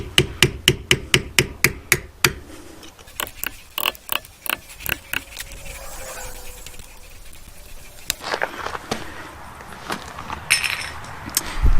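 Tool strikes tap against the small hub cap on a Peugeot 106 rear brake drum, a quick series of sharp metallic knocks, then scraping, fiddling and clinks as it works loose.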